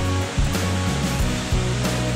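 Elk Falls, a springtime waterfall in Staunton State Park, rushes with a steady, broadband roar of falling water heard up close, with no voices.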